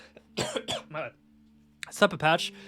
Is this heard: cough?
yes